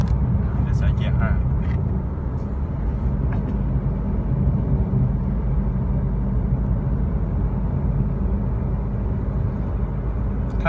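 An Isuzu 1.9 Blue Power pickup cruises in fifth gear at about 80 to 90 km/h, with a steady, loud engine and road rumble droning throughout as someone talks over it.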